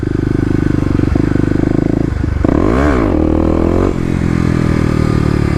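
A 2018 Kawasaki KLX250 dirt bike engine revs hard and loud up close off-road, steady buzzing idle pitch, then a sharp rising-and-falling rev sweep before settling back into a steady throb.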